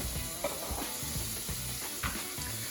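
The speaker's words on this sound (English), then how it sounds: "Making some shrimp in the house. I love to deep fry it." Steady sizzling and crackling of shrimp deep frying in hot oil, with faint stirring clinks, continuous and close with no voices.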